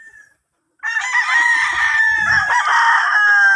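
A young stag rooster on a gamefowl farm crows loudly and close, one long drawn-out call that carries on for about three seconds after a short pause, with faint clucking beneath.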